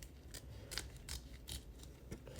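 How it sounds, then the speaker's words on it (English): Scissors snip through fabric close to a stitch line on an in-the-hoop peppermint ornament, making a quick run of soft, crisp cuts close by and quiet, with no talking. "So as we're cutting here, try to get as close to the stitch line as possible"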